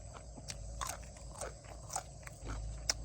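Someone bites into and chews crunchy fresh beans picked from a home garden, giving faint, close crisp snaps and crunches scattered over a low background hum.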